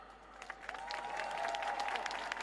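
An audience at an evening talk on the war in Ukraine applauds a member of parliament, steady clapping from a crowd building slightly over a couple of seconds.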